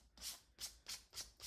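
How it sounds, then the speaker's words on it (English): A wooden craft piece is sanded by hand in five short, even back-and-forth strokes of soft, close scratching, quiet and rhythmic. "let's go ahead and get to sanding this"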